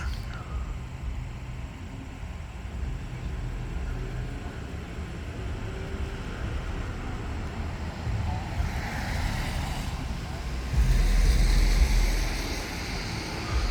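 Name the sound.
cars passing by on road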